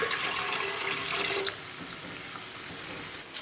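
Water pours steadily into a pot with a bright rushing splash, easing off partway through and then running on more quietly.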